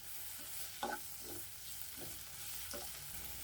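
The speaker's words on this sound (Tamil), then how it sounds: "இஞ்சி பூண்டு பேஸ்ட்லாம் நல்லா வந்து பச்சை வாசனை போக வதக்கியாச்சு" Soft steady sizzle of ginger garlic paste sautéing in a pan, with a few light scraping stirs of a spoon at intervals, heard up close and quiet.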